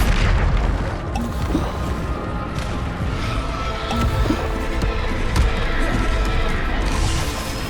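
Repeated Bombarda blasting-spell explosions from Hogwarts Legacy boom one after another in a dense, loud stream of thumps and crashes, layered over continuous game effects.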